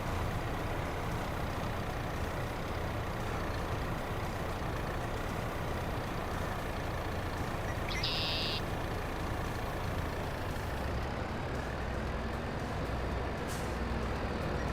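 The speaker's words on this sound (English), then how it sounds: "Oh, the tractor got away from me." A tractor engine in the Farming Simulator 22 video game drones steadily and loudly throughout, with a short hissing burst about midway and no talking.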